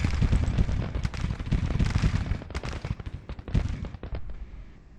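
Three-inch ordnance artillery in Grand Tactician: The Civil War fires counter-battery salvos, a dense rolling barrage of booming cannon shots and crackling blasts, loud at first and thinning into scattered reports.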